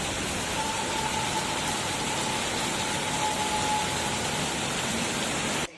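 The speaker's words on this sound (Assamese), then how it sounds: "পূৰা একদম দবা পিটা বৰষুণ দি আছে ইয়াত" Heavy rain pours steadily, a dense, even hiss that continues without pause until it cuts off abruptly at the end.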